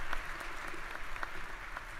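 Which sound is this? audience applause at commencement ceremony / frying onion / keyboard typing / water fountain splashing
audience applause at commencement ceremony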